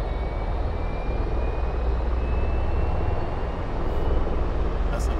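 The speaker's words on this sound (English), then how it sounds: "Got some helicopters going. Humvees moving." Helicopters and Humvees moving through the DCS combat flight simulator, a steady broad engine and rotor rumble holding at an even, fairly loud level throughout with no speech.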